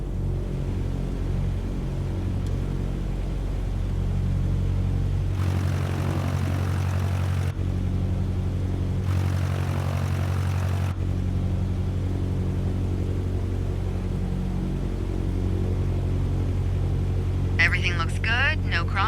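A propeller airplane taxiing in Microsoft Flight Simulator 2020 gives a steady, loud engine drone and rumble throughout, with a few brief bursts of broadband hiss and a short electronic chirp near the end.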